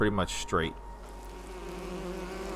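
In the fantasy role-playing game Enderal, bees give a steady, close insect drone that continues evenly after someone speaks briefly at the start.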